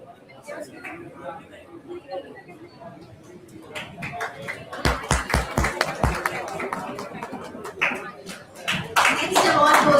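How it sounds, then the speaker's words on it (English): An audience at a physiotherapy conference award ceremony applauds, with scattered claps building into fuller applause while a voice speaks over it and the hall murmurs. "Please give sir a huge round of applause"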